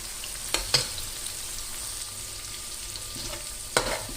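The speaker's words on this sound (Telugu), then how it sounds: "కాసేపు ఫ్రై అవ్వాలి." Ingredients for egg fried rice frying in hot oil in a pan, a steady close sizzle with a few sharp scraping stirs of a utensil near the start and end.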